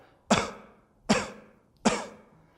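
Three sharp human coughs, evenly spaced about a second apart, each a quick burst that fades, close and clear against near silence, demonstrating breath support for singing.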